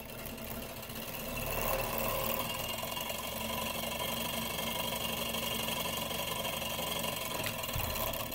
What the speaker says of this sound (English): then we will end up with a slightly faster spin on the motor